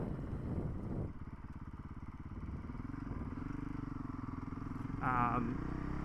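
A Honda CRF450RL dirt bike rides along with a steady, throbbing single-cylinder engine close by. The exhaust pulses loudly and evenly, and a brief rev rise comes near the end.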